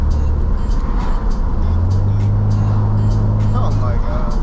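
Ford F150 pickup truck driving, heard from inside the cab as a loud steady road and engine rumble, with a low engine drone rising briefly midway and a voice talking over it.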